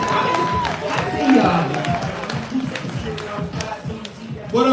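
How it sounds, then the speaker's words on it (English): Audience at a poetry open mic clapping and cheering as a performer takes the stage, a loose mix of claps and whoops over crowd chatter and a host's voice, steady and fairly close throughout. "Yeah, clap him up."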